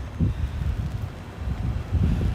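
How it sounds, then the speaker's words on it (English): Gusts of wind buffet the microphone on a Brooklyn rooftop at night, in two or three low, rumbling bursts with no voices. "It's windy up here though."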